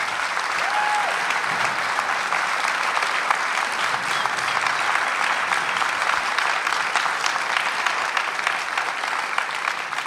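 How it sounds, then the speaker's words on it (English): An audience at the ZEISS seminar during EnergaCAMERIMAGE 2023 claps steadily, a dense and even roar of many hands that lasts the full ten seconds without fading. "this deserves a first applause"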